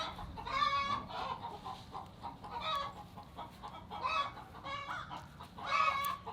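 Several heirloom chickens in a flock of 34 birds cluck and squawk in repeated bursts, fairly close, over a steady low background hum.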